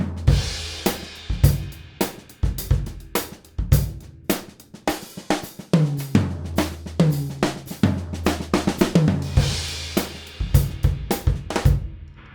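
A drum kit plays a 3-bar cycle fill for about twelve seconds, a dense, loud and close pattern of kick, snare and tom hits with crashing cymbals at the start and near the end.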